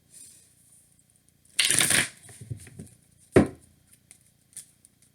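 Tarot cards being shuffled in two short bursts, a dense riffle followed by a sharper snap and a few light taps, close and with no talk over it.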